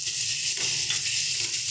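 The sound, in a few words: mutton liver added to frying spice masala, sizzling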